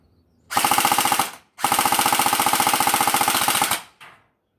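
Alpha King AK 105 gel blaster firing fully automatic, two loud rapid bursts of evenly spaced shots, the second longer, followed by a short trailing mechanical sound.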